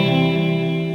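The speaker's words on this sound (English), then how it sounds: "on the first two of the echo mode, it creates a reverb effect" A sustained electric guitar chord rings through an Electro-Harmonix Stereo Memory Man with Hazarai pedal in echo mode, washed in a smooth reverb tail, steady and moderately loud without voices.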